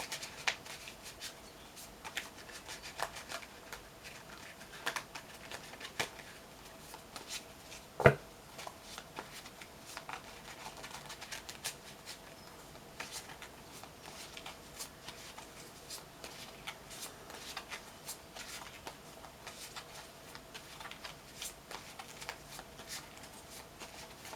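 Tarot cards are shuffled in a long quiet run of soft riffling and brushing, close by, with one brief sharper slap near the middle and no talking.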